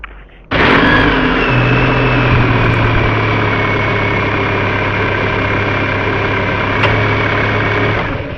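A car engine running in a suspense radio play: after a short quiet start it comes up suddenly to a loud, steady, low idling rumble that holds without change.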